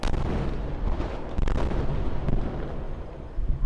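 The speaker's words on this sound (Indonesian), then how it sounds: "Suara ledakan juga terdengar di penjuru kota Tel Aviv dan Yerusalem." Missile strikes boom across Tel Aviv at night, a rapid series of heavy, rumbling blasts and sharp cracks, some close and loud, others distant, overlapping with one another without pause.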